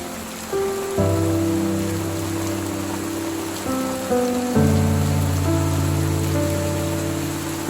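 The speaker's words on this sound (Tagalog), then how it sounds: "So, sobra ng lakas ng ulan." A heavy, constant downpour hisses close by, with sustained droning tones shifting in pitch layered over it.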